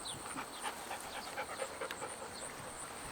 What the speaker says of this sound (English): Look at my dog.